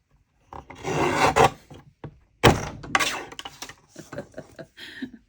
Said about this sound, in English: Let's trim this one down a little bit.